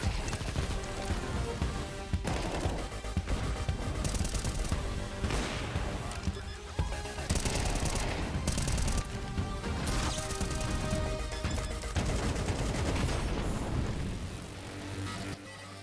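Dense, loud gunfire and impacts from Counter-Strike 2 gameplay run without pause, with rapid sharp cracks layered over constant background game noise.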